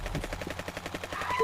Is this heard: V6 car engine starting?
no